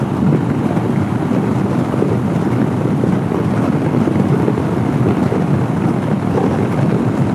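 Motorcycle ride along back roads at sunset, with a steady broadband roar of engine and wind buffeting the microphone that holds constant throughout, with no talk.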